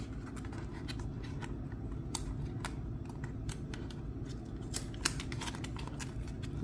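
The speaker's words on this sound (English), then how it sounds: "I have to peel and peel again." Self-adhesive backing sheets peeled off mosaic wall tiles in a kitchen, a dense run of close crackling, ticking snaps with no voices.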